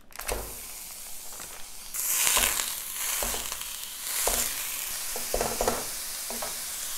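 A pound of 93% Angus ground beef sizzles in a hot pan, with steady frying hiss and repeated scraping strokes of a utensil breaking it up, close and fairly loud.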